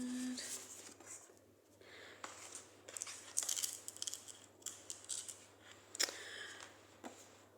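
Oracle cards being shuffled and drawn by hand, giving a run of soft papery snaps, slides and crinkles in irregular bursts close to the microphone.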